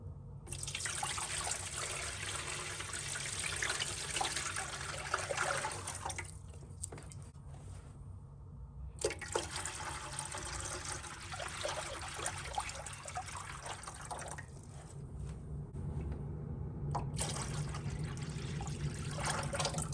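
Water pours into an AeroGarden Farm XL hydroponic system in long, steady runs with brief pauses between, a close, continuous splashing trickle with no one talking.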